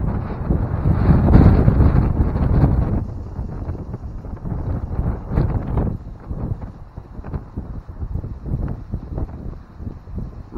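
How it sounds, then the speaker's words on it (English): Strong wind at a lookout over the Ozark Mountains near Branson, Missouri, buffeting the microphone loudly and continuously, with heavier gusts early on. "Really windy today."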